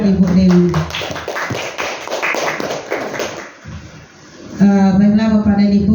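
Applause at a school event for a teacher, a guru penggerak, presenting on positive school culture: bursts of clapping alternating with voices speaking over the room, then a speaker's amplified voice resuming.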